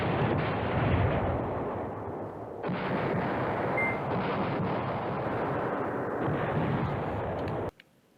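Artillery in a World War II strategy game, Command Ops 2, set near Hell's Highway, rumbles in a continuous dense roar of firing. It stays loud, shifts once midway and cuts off sharply at the end.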